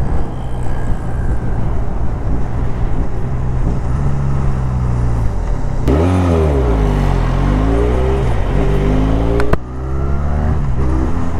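A Benelli Leoncino 500 motorcycle's 500cc engine revved high at the top end on a highway ride, a loud continuous drone with rising and falling pitch sweeps and a brief dip near the end.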